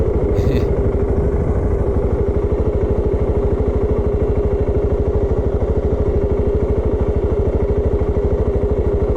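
A Voge 650 DSX motorcycle engine runs at a steady, even throb on a slow off-road ride, loud and close, with continuous pulsing and no voices.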